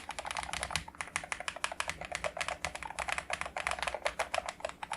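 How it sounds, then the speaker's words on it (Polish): Fast, steady typing on a HATOR Skyfall magnetic-switch keyboard, each keystroke a bright, crisp click, heard up close with no talking. "ten klik jest taki bardzo przyjemny dla ucha"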